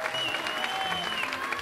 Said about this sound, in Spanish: Y quiero que aplaudan porque ahí está escrito el mismo.